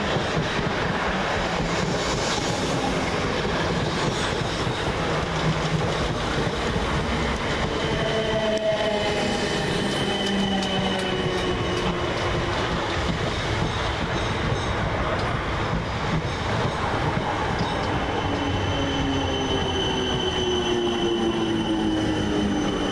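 A South Western Railway train arriving at Twickenham station, a steady loud rumble of wheels on rails with squealing brakes and wheel screech rising and falling as it pulls in, wind buffeting the microphone throughout.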